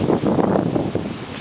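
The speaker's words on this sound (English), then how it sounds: "It's pretty dang windy" Steady, loud wind buffeting the microphone, a continuous low rumbling roar with no voices.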